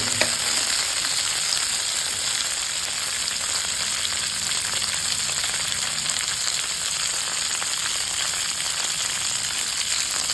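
Food frying in a pan while being stirred little by little, a steady dense sizzle running unbroken throughout with no talking.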